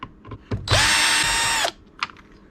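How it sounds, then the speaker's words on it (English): Electric screwdriver whirring for about a second as it backs a screw out of a Victron Lynx Power In busbar unit, a steady buzzing burst between faint handling clicks. "we take a screwdriver, take out these two screws"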